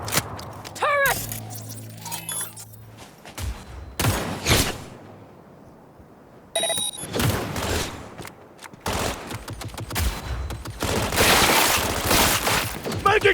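Rapid bursts of turret gunfire in Cyberpunk 2077, loud clattering volleys that come in several separate stretches with short gaps between them, mixed with metallic jangling, game music and shouted voices.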